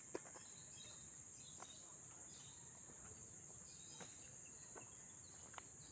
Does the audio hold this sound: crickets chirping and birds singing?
yes